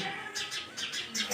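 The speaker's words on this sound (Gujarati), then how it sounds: "આસોપાલવના ઝાડ જોડે ચકલીઓ કલરવ કરી રહી છે" Sparrows chirp by an Ashoka tree in a quick run of short, bright tweets, about five in a row, against a soft background hiss.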